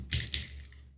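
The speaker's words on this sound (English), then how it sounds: "go to the search bar and type in" Brief burst of a few quick taps as a web address is typed on a phone, close and fairly quiet, with no talk.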